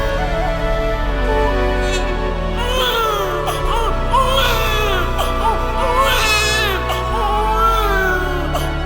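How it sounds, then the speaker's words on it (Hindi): Infant crying plays through a loud recorded soundtrack at the Krishna Janmabhoomi light and sound show in Mathura, wavering wails rising over steady music and background drone throughout. "अरे ये तो बच्चे के रोने की आवाज है।"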